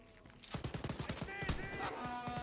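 Rapid machine gun bursts from the video game Wolfenstein: Youngblood, a dense run of sharp repeated shots lasting about two seconds, mixed with game sounds and a faint voice.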